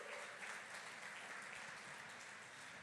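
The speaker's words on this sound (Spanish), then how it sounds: "dale fuerte el aplauso al Señor" A church congregation applauds at an Easter resurrection celebration service, a thick, continuous roar of clapping that stays even and full throughout, with no voices rising above it.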